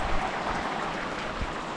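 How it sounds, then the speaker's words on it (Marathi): Steady, heavy unseasonal rain falls outdoors in the Konkan, heard through a kitchen window, a dense, even hiss of drops with no pauses, moderately loud and close. "बघा बाहेर पाऊस कसा मस्तपैकी पडतोय"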